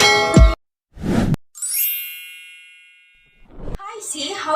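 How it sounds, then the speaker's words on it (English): A notification bell sound effect rings out as a bright ding with a long shimmering decay, between short bursts of other sounds and a voice. "hit the notification bell for more updates"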